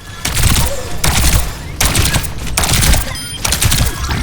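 Weapon fire from the hero Juno in the video game Overwatch 2: loud, close rapid bursts of shots in about five clusters separated by brief gaps.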